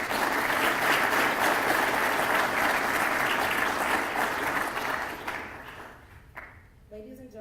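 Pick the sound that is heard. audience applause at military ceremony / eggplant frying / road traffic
audience applause at military ceremony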